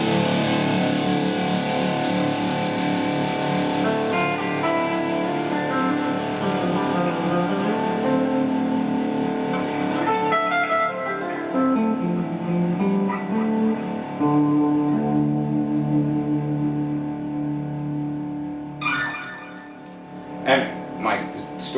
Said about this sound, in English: I'm able to play really interesting clean lines over the top of fading heavy